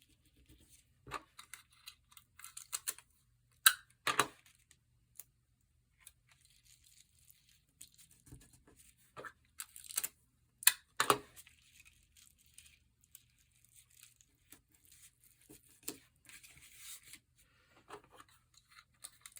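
Strips of tape torn and pressed down onto card while making a Christmas tree circuit card: a few sharp, quiet rips and rubs scattered between long near-silent pauses.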